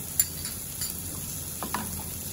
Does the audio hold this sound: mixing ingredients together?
yes